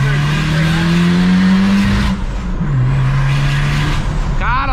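A Ford Ranger turbo pickup slides sideways through a curve, its engine droning loud and close with a sustained tone that dips and shifts as the truck slides; tire noise rides under the engine throughout.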